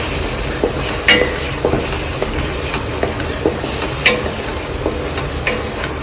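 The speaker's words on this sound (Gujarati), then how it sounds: "તો આમાં થોડું થોડું કરીને આપણે બધું દૂધ એડ કરી દેવાનું છે." Semolina roasts in a hot pan while milk goes in a little at a time, making a steady close sizzle broken by scattered stirring scrapes and small clinks.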